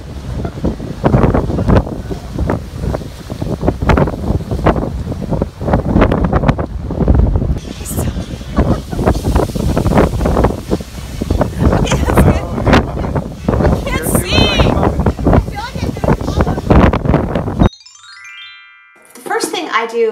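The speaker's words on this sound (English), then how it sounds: "I'm on a cruise ship and the wind is blowing super hard" Strong wind blows across a cruise ship deck, buffeting the microphone in loud, rough gusts that surge and ease for many seconds before a brief sharp quiet at the end.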